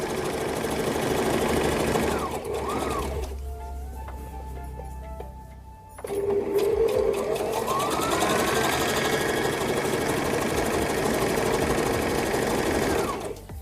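A sewing machine stitches a turban with a steady, loud mechanical whir and rhythmic needle ticking. The run briefly dips in the middle before resuming at full speed.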